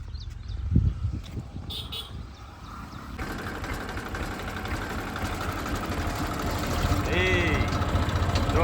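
Tractor engine on a farm idling with a steady mid-pitched rumble that grows slightly louder, while people talk nearby, with some knocking and handling noises early on.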